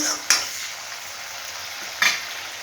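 Ingredients for chitranna (lemon rice), including sliced urad dal, fry in oil in a pan, a steady soft sizzle broken by two sharp clinks of a utensil stirring against the metal.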